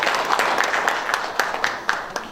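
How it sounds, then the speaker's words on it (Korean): Applause from the audience at a panel discussion on regional delivery-rider labor rights: a steady patter of many hands clapping indoors, with a few louder individual claps standing out and faint voices underneath. "큰 박수 부탁드립니다."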